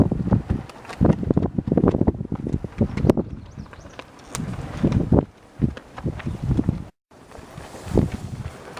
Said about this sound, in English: With the wind blowing like it is, it actually feels chilly up here on the top of Brasstown Bald.